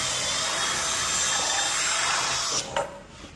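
A power drill running an 8mm bit through the holes of 3D-printed car seat parts, a steady loud high whine held for over two seconds before it cuts off abruptly with a brief clatter.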